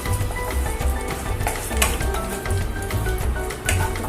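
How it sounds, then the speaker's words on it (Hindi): Whole spices roast in a pan for a mustard fish curry, giving a soft continuous sizzle with occasional sharp clinks and scrapes of a utensil against the pan. "खड़े मसाले थोड़े से भून जाएंगे"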